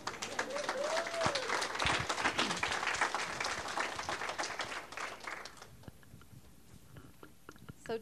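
Audience applause at an indoor talk where a guest speaker is being introduced, a dense burst of clapping that stays fairly loud for several seconds, then thins out and fades toward the end.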